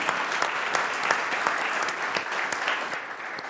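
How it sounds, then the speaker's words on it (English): A live-stream audience at a Birmingham AI meetup claps steadily for a demo presenter, dense continuous applause that tapers slightly near the end. "Let's give Austin a round of applause."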